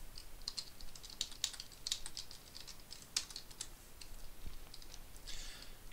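Quick irregular keystrokes clatter on a computer keyboard as an hg commit command is typed, soft close clicks in short bursts with small pauses, no voices.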